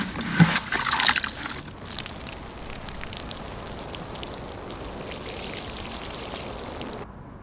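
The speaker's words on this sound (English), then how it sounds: "Grab the watering can and water the soil." Water from a watering can poured onto soil around a young tree, a loud splashing burst in the first two seconds that settles into a steady, softer patter and trickle lasting several seconds.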